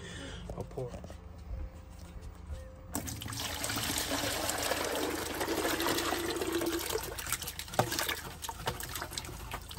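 Water poured out of a container holding caught debris, a broad trickling rush outdoors that starts abruptly and runs steadily, fairly close, with a voice talking over it.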